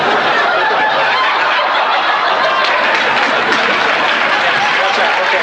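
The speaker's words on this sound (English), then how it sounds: "That got an applause," Studio audience in a sitcom responds with loud, continuous applause mixed with laughter and cheering, a dense and steady crowd roar with no clear pauses.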